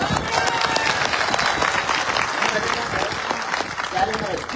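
A crowd at a Maratha political rally applauds with sustained clapping that continues for several seconds, with a voice faintly heard under it.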